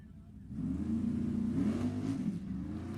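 Drag race cars launching in a match race at Sacramento, engines roaring up from quiet into a loud, sustained rising rev that wavers as the tires break loose, heard from trackside.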